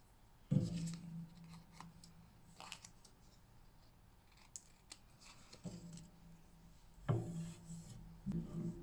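Scissors snip a paper strip for a fancy fold card, a few crisp close cuts at the start, middle and end with quiet paper rustling between.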